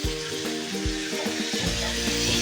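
Ginger garlic paste fries in a pan while cooking eggs with tomato puree, giving a continuous close, bright sizzle with soft stirring knocks and a faint tonal hum underneath.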